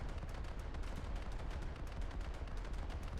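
Naval guns firing in War Thunder, a dense, continuous barrage of heavy booming shots with no talk over it.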